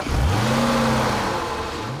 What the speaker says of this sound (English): The XJ is powered by a 5-litre V8 that puts out 385 horsepower and 380 pound-feet of torque